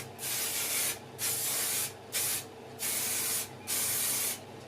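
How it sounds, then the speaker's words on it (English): Spray paint dusts thin coats onto a Suzuki GSXR 600 SRAD motorcycle part in five short, even hissing bursts with brief pauses between them, close and clear. "You spray a thin coat on"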